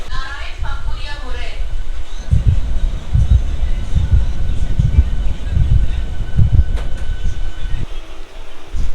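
The Panskura to Digha special local train rumbles along with rhythmic clacks of wheels over rail joints and a low, loud roar, while a voice speaks over the noise.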